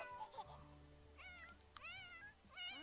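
A cat meows in The Sims 4, several rising tonal calls spread across the stretch, close and clear over a low sustained game music bed.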